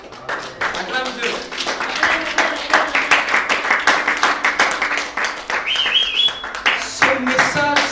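A church congregation at a Sunday service claps and calls out in praise to God, a dense, steady wash of clapping and raised voices filling the room from start to finish.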